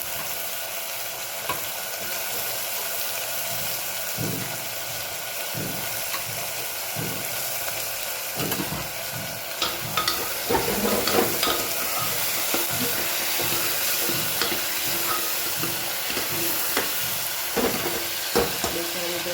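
Steady sizzling of food frying in a pan, with occasional stirring clicks and scrapes throughout.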